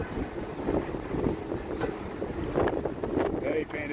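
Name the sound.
wind noise on the street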